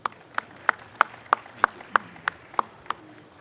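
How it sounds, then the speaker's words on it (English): A handful of people clap sparsely at a panel introduction, about ten separate sharp claps spread evenly over a few seconds, fairly close and with no voices. "please join me in a round of applause for this awesome panel"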